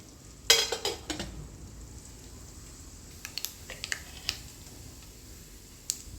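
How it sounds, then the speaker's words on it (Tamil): Mustard seeds and urad dal in hot oil crackle with a few sharp pops at first, then scattered faint ticks over a quiet sizzle. "கடுகு போட்டுட்டு உளுந்து பருப்பு போடுவோம். பொரிஞ்சதுக்கப்புறம்"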